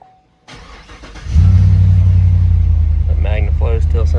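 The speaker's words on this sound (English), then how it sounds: "Go ahead and fire this thing up." A car with an installed MagnaFlow exhaust and a new Mishimoto transmission cooler cranks briefly and catches, settling into a loud, steady, deep idle rumble, with a person speaking over it near the end.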